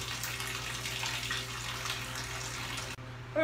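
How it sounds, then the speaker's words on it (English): Hot water flushing sugars out of a corn and grain mash pours in a continuous close splashing gush, cutting off abruptly near the end. "hot water and flush the sugars out of the corn and the grains"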